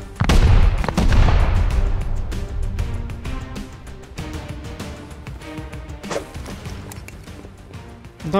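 A burst of deep booming blasts opens a bean grenade raid on a cave in a survival video game, followed by a run of sharp, fast cracks and thuds that taper off, loud and close.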